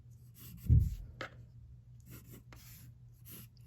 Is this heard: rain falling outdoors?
no